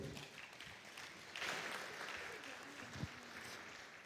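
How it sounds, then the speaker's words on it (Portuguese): Applause at a Japanese Immigration Day ceremony held in the Londrina city council chamber, faint crowd clapping in a room, rising around the middle with a voice speaking over it. "Uma salva de palmas mais uma vez, por favor."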